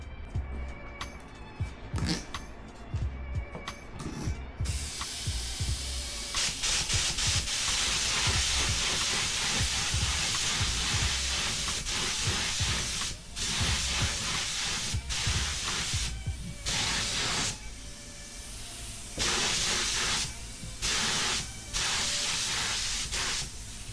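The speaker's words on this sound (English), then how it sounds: "We're just trying to get the paint on there. Nice and thin layer." Spray paint hissing steadily from an aerosol can onto a scooter, a loud, close, continuous spray broken by brief pauses between passes.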